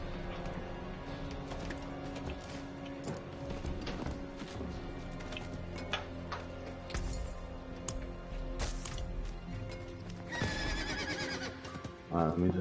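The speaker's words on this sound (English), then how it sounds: "Here's my horsey." A horse in the Diablo 4 video game whinnies near the end, with clopping hooves and game mechanism sounds underneath while a person talks over much of it.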